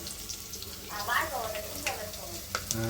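Chili and spices fry in a pan with a soft, steady sizzle and occasional stirring scrapes, heard faintly at a moderate distance with some background noise and a voice in the room.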